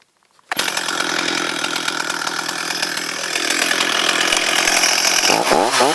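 A chainsaw roars at full throttle while cutting wood, loud and close, with the engine note wavering and lurching near the end as the bar kicks back; no voices.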